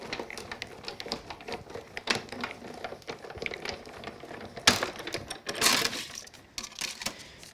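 A die cutting machine cranks a craft card through its cutting plate, giving a quiet run of rhythmic mechanical clicks and ratcheting ticks with a couple of louder clunks.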